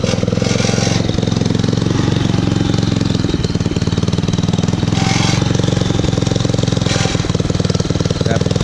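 A 150cc Yerfdog go-kart engine idles close by with a rapid, rattling pulse, its speed surging up and down in waves over a continuous mechanical clatter.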